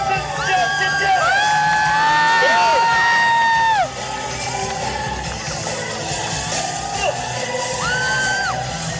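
A school crowd at a fire-knife dance performance cheers loudly, with high shrill screams and whoops rising over a dense roar of applause and yelling that carries on throughout.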